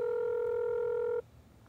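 A phone held near the microphone sounds one steady electronic tone, fitting a number being dialed, for just over a second before it cuts off abruptly, leaving faint room hiss.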